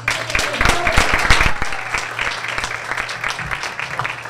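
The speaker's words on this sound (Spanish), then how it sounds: "Vamos a darle un fuerte aplauso." A university audience claps for a speaker at a mental health talk, a burst of close, sharp handclaps that soon thins into lighter scattered clapping, with voices mixed in beneath.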